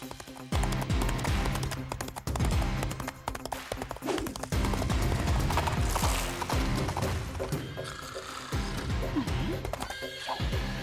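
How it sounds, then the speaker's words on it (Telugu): A horse being ridden, with repeated neighing and whinnying over clattering, ratchet-like mechanical clicks in a busy, loud mix; hoof clip-clops come through intermittently throughout. "గుర్రం మీద స్వారీ చేస్తున్నాడు"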